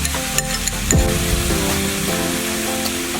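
Leftover roast pork stir fry being mixed in a hot pan with lime juice, fish sauce, sugar and chilli: a steady, loud sizzle with occasional soft scraping strokes of stirring, heard close and without talk.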